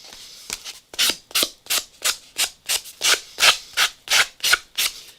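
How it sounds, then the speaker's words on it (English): A sanding sponge is rubbed along a paper edge in about a dozen rhythmic grating strokes, close and crisp with brief pauses between each pass. "So I'm just going to use the sanding sponge. If this kind of noise, grating noise bothers you,"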